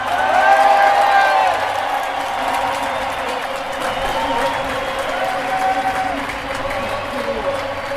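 A stadium crowd cheers a cyclist arriving at the finish of a women's time trial, a loud sustained roar with whoops and applause, while a commentator talks over it.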